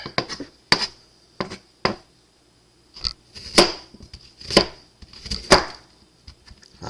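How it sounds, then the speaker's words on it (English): Onions are chopped with a knife on a board in sharp, irregular strikes, a few quick taps, a pause, then heavier spaced cuts with crisp crunches, close and clear with no talk. "Sometimes I'm not that great at cutting up these onions."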